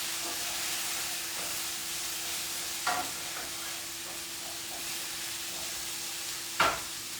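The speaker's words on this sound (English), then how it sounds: "I'm going to stir it up and add some ice." A Paloma cocktail sweetened with agave is stirred in a glass, giving two brief clinks and a scrape over a steady background hiss and hum, with no talking.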